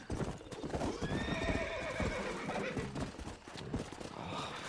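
Hooves clip-clop in a quick rhythm while a horse whinnies, loud and close, with faint game ambience underneath, from the video game Red Dead Redemption.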